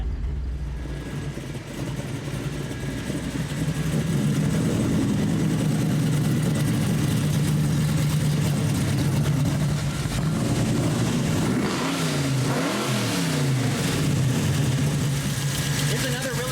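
A hot rod V8 fitted with EFI runs loud and close, starting at a rumbling idle before rising into sustained revs with sweeping pitch changes, and a voice talks over parts of it.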